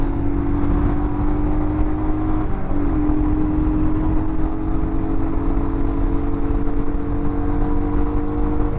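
A 2021 Royal Enfield Himalayan motorcycle runs at full throttle uphill into a headwind, its engine droning steadily and loudly beneath heavy wind rush, with the pitch rising slightly as it pulls.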